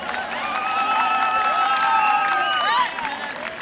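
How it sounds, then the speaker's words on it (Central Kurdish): Audience applause at a technical institute graduation ceremony, a dense wash of clapping with some cheering, swelling and then fading slightly near the end. "چەپڵەیەک بۆ داستانە مەزنە"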